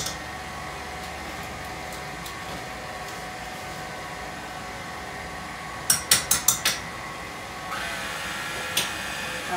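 A quick series of about five light knife taps against a plate or board as a block of room-temperature Philadelphia cream cheese is cut into small pieces, close and crisp over a steady background hum.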